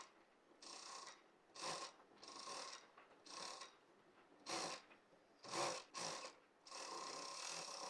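A sewing machine stitches a flared kalidar palazzo in bursts, short runs of rapid needle whirring separated by brief pauses, then a longer steady run near the end; quiet and close with no talking.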